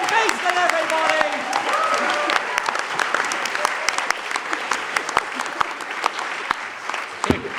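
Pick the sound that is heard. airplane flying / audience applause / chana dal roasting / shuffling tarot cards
audience applause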